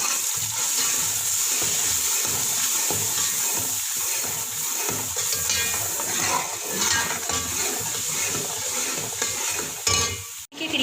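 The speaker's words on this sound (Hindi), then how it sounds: "अब हम इसको अच्छे से भून लेते हैं।" Spices with salt and turmeric powder roast in a pan for kadhi pakora, giving a steady close sizzle with continuous stirring and scraping throughout and no talking.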